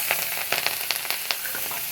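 Black cumin seeds, green chili and chopped onion hit hot oil left from frying fish, producing a short burst of close sizzling with sharp crackles and pops.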